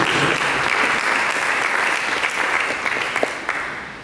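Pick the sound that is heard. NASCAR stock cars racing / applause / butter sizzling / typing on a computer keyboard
applause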